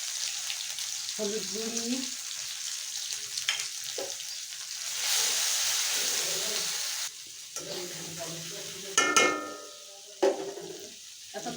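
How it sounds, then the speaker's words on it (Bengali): A ground paste of cumin, black pepper and green chili, plus turmeric, sizzling and being stirred in hot oil for a koi fish curry with potato and bottle gourd greens; steady frying hiss with scraping, under a woman's speech. "তেলটা গরম হয়ে গেছে। এখন বেটে রাখা মশলাটা দিয়ে দেব।"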